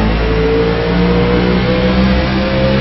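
Onboard engine of the No. 91 race car in an RSR FullThrottle Cup race at New Hampshire, a loud, steady high-revving drone with sustained harmonic whine and no pauses, filling the cabin.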